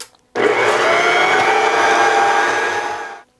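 A mixer breaking up butter and flour for coconut cookie dough: a loud, steady electric motor whir that starts abruptly, holds for about three seconds, then cuts off.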